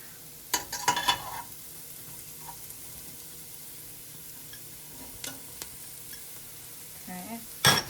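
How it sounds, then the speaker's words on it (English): Mushrooms go into a pot of hot oil, giving a low sizzle broken by a few scraping, clattering stirs near the start and end. "Okay, so I'm gonna add the mushrooms now."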